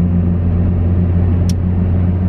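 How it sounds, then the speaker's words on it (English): Steady, loud low rumble inside a 2008 Honda Civic while driving, constant engine and road drone filling the cabin with no talking. "which is a 2008 Honda Civic."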